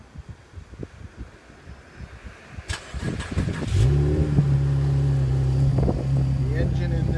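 A 2014 Chevrolet Camaro RS with a 3.6 liter V6 and automatic transmission starts after some faint handling noises, then revs once and settles into a steady, loud, close idle.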